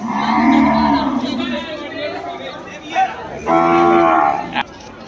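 Calves mooing at a crowded weekly cattle market, two loud drawn-out moos nearby separated by a pause, over a steady background of crowd chatter.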